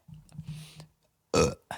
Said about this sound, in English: I'm on a roll today. 3 burps.